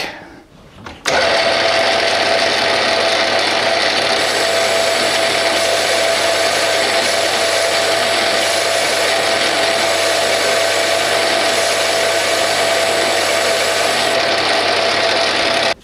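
A Bernardo P 600 G lathe turns a grade 2 titanium ring with a 2 mm diameter cut. It starts abruptly after a second and gives a loud, steady machine whine and hum with a fixed tone that runs on unbroken until the end.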